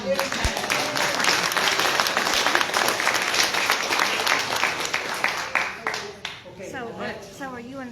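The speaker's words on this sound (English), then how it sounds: "Applause for this." Audience at a beekeepers association meeting applauding, dense close clapping that fades out after several seconds, with voices starting to talk as it ends.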